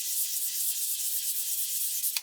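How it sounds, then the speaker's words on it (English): Close, steady rasping of sandpaper rubbed back and forth along the edge of an Airfix 1/72 Lancaster B.III plastic model wing, continuous soft hiss, no talk. "Just sanding away until all the pen is gone from the outside edge"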